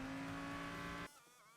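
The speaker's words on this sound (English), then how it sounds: "Hear a nice little buzzing noise in the background. That's how all cars should sound." Car engine in the video game Payday 2, a steady buzzing hum with a high, constant tone that holds for about a second and then cuts off abruptly, leaving faint ambience.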